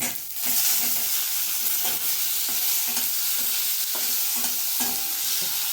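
Chopped tomato frying in a pan, with a steady loud sizzle and regular scraping strokes of a spatula about once a second, no talk.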